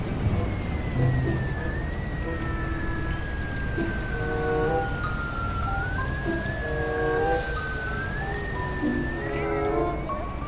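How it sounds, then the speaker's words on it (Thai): An emergency vehicle siren in the video game Farming Simulator 19 wails steadily for about ten seconds under constant engine and machinery rumble, with a lower rising and falling horn pattern under it. "นี่มีหวอด้วยนะเว้ย"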